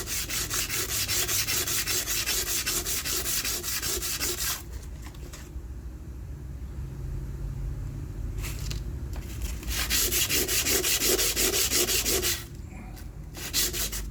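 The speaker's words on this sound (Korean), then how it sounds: "제가 이 사포는 지금 220번을 사용하고 있어요." 220-grit sandpaper rubs back and forth over wood for a square frame in steady, close strokes, pausing briefly twice before the rasping resumes.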